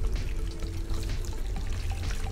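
Hair dye being rinsed out of hair under running water, a steady close pour and splash lasting throughout without talk.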